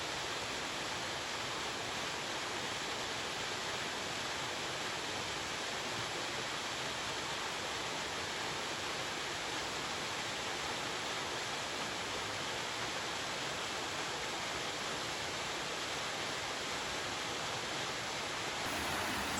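A steady, dense roar of the Lazny waterfall in Ukraine, constant and full throughout, with no pauses or voices.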